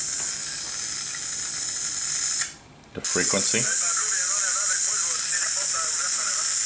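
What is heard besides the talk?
radio hiss from SDR tuned to police frequency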